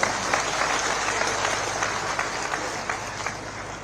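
A large crowd at an outdoor public rally in Una, Himachal Pradesh, applauding loudly and steadily for several seconds, dense clapping with a few voices mixed in.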